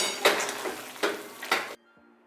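A spoon scrapes and clacks three times against a pan while dry fruits are stirred into rajgira shiro, a sweet amaranth-flour pudding, each stroke a short scrape, ending in near silence.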